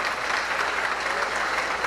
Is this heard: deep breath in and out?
no